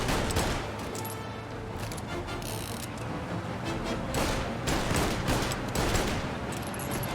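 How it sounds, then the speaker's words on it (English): Rapid gunfire bursts from a car in Mafia: Definitive Edition, with engine rumble and street noise underneath, shots cracking repeatedly and steadily throughout at close range. "Like I can shoot while driving?"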